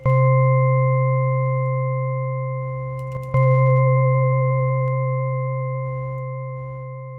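A sustained granular synth pad chord made in Phase Plant with a pulsing tremolo, steady and loud, briefly re-struck midway, then fading slowly with faint grainy flutters.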